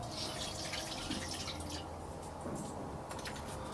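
Water drips and trickles as hands are washed in a staged Passion play scene of Pilate, a steady, fairly quiet wet patter with no talk over it.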